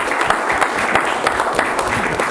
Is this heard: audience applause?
yes